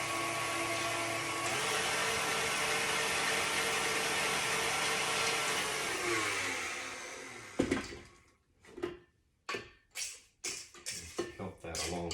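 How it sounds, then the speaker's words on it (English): Electric hand mixer whirring steadily as two eggs are blended into old-fashioned teacake batter, a continuous motor drone for about seven seconds before it stops, followed by spoken voice and scraping sounds. "continue blending that together"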